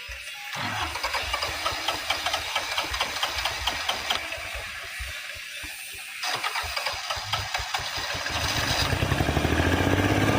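A tractor engine starts and runs with a steady knocking putter, growing louder toward the end, heard up close with no talking.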